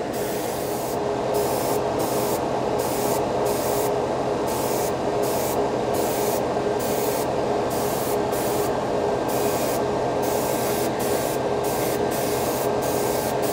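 A Paasche H Series airbrush sprays primer across a wide area, giving a steady, close and fairly loud hiss of fine atomized spray that runs unbroken from start to finish with no voices.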